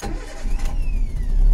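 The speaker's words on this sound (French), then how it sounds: "Pour voir si le véhicule démarre." Toyota Yaris fitted with high-flow injectors cranks and catches, a short churn of the starter rising into a close, steady engine running alone.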